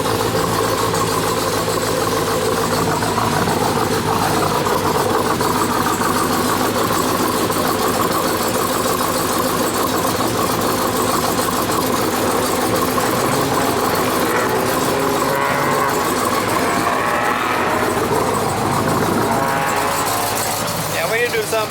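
A Hellephant 426 V8 with a big cam idling in a Ram TRX truck, a loud, close, steady rumbling idle with a slightly choppy lope, sustained throughout.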